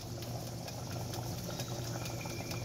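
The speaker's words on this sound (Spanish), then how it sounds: "ya los frijoles están en ebullición, están espesando" A pot of black beans at a rolling boil, a steady close bubbling and hissing wash that stays even throughout with no voices.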